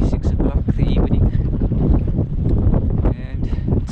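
Cold evening wind on a small boat out squid fishing off Simon's Town, loud, constant buffeting roar on the microphone with people talking through it.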